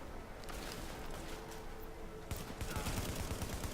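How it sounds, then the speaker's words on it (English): Enemy gunfire in the video game The Division, heard during a Lincoln Tunnel checkpoint fight: a dense, continuous rattle of shots with sharper bursts toward the end, loud and steady throughout. "As you can see, they're now shooting me in the back."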